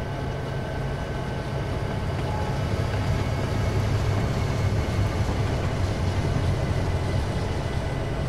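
Trains in Train Simulator 2015 on the Horseshoe Curve route rumble past in a steady, loud, continuous drone with no pauses or voices.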